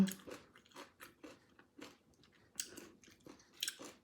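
Crunchy papaya salad is chewed close up, giving a string of irregular crisp crunches and bites with quiet gaps between them and no talking.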